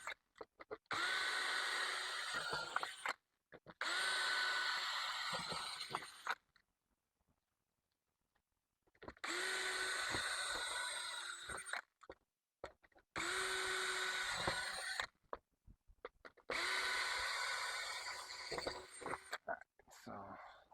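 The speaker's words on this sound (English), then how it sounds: "so now I'll just go back drill everything" Power drill driving screws into a swimming pool skimmer during a replacement, in five loud bursts of several seconds each with short pauses between, close by.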